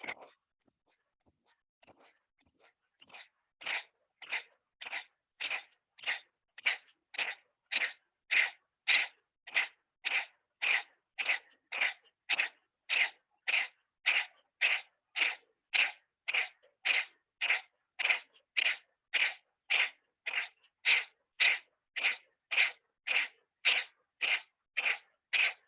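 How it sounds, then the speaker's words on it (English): Rapid yogic breath of fire: sharp, even nasal exhales pumped out in a long steady train of roughly two per second, close and loud, starting after a few scattered breaths with no talking. "Exhale, breath of fire."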